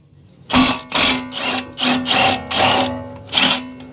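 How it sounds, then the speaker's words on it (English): A Honda Pilot strut pinch bolt being loosened with a 17 mm tool, heard as a series of about seven loud, rapid mechanical bursts with a steady tonal whine, close and alone. "Now we can loosen and remove this lower pinch bolt here."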